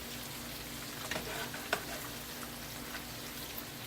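Shrimp cakes frying in a pan over medium-low heat, a steady close sizzle with a couple of brief crackling pops, and no talking.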